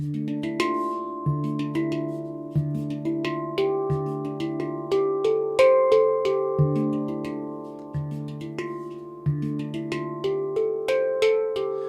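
A metallic, bell-like handpan plays a flowing groove of ringing tones with light percussive taps, steady and close.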